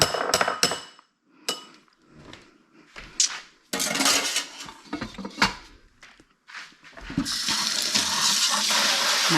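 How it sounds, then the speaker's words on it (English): Rasp grater, just used to mince garlic, rinsed under a running kitchen tap: a few sharp metallic taps and knocks, then a steady rush of water splashing into the sink, close and fairly loud, no voices. "I always like to rinse my rasp grater immediately"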